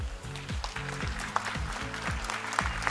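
Applause from a standing audience welcoming a guest at a school sports day, a steady patter of clapping under strong rhythmic music with a thumping beat that dominates the mix.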